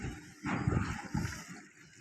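A boat travels along a river, giving a steady low rumble with broadband wind and water noise that swells after the first half second and stays fairly even, with no voices.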